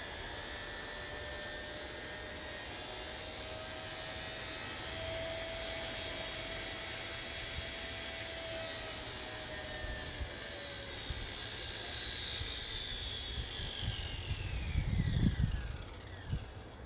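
XK K110 RC helicopter rotor spinning at about half throttle, a steady high-pitched whine with tonal motor harmonics that bend downward near the end as the speed changes, close and continuous with no talk.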